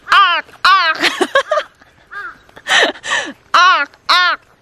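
A voice imitates crow caws outdoors on a 5 a.m. dawn walk in Gapyeong, with a string of sharp, loud, evenly repeated cries close to the mic and some brief talk in between.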